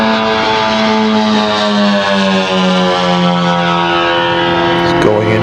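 Giant scale F8F Bearcat model airplane, a rebuilt Norwegian model products kit, flying at a scale competition, its engine a loud, steady droning whine with a slowly shifting pitch that fills the whole stretch.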